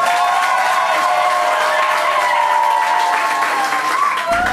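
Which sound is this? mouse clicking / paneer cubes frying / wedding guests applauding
wedding guests applauding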